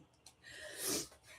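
A single person's sneeze, quiet and close, preceded by a short intake of breath and a faint snort.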